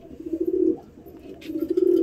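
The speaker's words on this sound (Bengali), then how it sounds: "এই পায়রাগুলো সব কটাই উঠবে" Pigeons in a clean loft give two soft, low cooing phrases close by, separated by a brief pause, with little else in the background.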